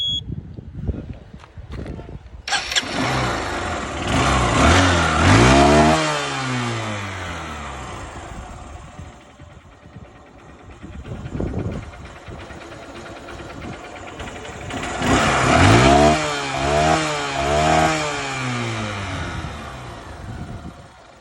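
A Honda Shine motorcycle engine, still running but giving off some petrol smell and smoke, starts up and idles close by, then revs in two rising and falling bursts with quieter idling between them.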